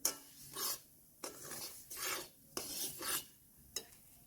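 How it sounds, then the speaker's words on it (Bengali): Semolina is dry-roasted in a pan for carrot barfi and stirred with a spoon, making rhythmic scraping, rasping strokes about once every half second to second. The sound is close and fairly quiet, and nobody speaks. "আমরা সুজিটাকে খুব ভালো করে ভেজে নিচ্ছি"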